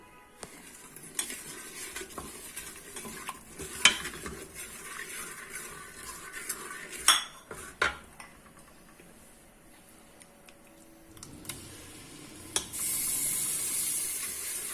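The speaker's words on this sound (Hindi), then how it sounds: "इसमें मैंने लहसुन अदरक और ये जो सारे मसाले थे ये शामिल किए हैं और इसको थोड़ी देर के लिए फ्राई करेंगे" Garlic, ginger and spices frying in ghee in a pot for haleem, a low sizzle broken by irregular clinks and scrapes of a spoon stirring against metal, close by and without talk.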